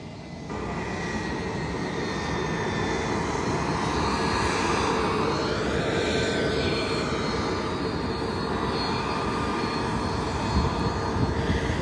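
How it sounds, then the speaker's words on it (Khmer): A fixed-wing airplane carrying three million doses of COVID-19 vaccine arrives at an airport in Cambodia, its engines roaring loudly and steadily throughout, with a slight rise and fall in pitch near the middle. "នេះគឺជាវត្តមានរបស់យន្តហោះដែលបានដឹកវ៉ាសាំងមកដល់ហើយ"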